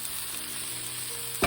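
Minced garlic sizzling in a hot pan with vegetables, a steady close hiss of frying that continues evenly, ending in a brief clatter, no talk.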